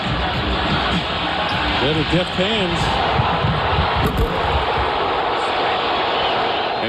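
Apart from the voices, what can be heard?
basketball arena crowd reacting at the Georgia Dome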